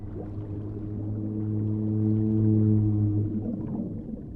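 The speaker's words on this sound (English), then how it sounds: "The only ocean sound effect." Low ocean ambience from the survival game Bermuda Lost Survival, a steady droning swell of deep rumbling water tones that rises gently and fades, continuous and alone with no voices.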